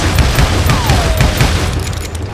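Gunfire in the western shooter game Call of Juarez Gunslinger: a rapid stream of loud, booming shots and blasts packed closely together, dense and continuous throughout.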